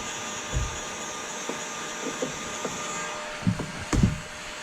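Heat gun shrinking window tint film on a VW Jetta back window, a steady airy blowing hiss running throughout with a few faint soft taps and knocks.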